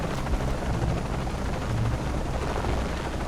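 Continuous heavy rotor roar from a helicopter in the video game Shadow of the Tomb Raider, a thick low rumble with grainy noise that stays loud and constant throughout.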